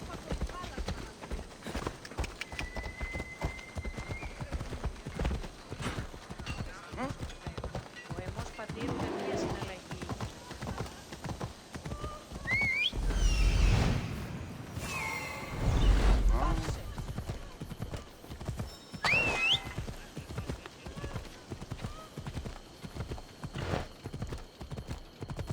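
Horse hooves clip-clop steadily throughout a stretch of Assassin's Creed Odyssey gameplay, with a whinny rising partway through and louder swells of rushing movement around the middle, while a person talks over much of it.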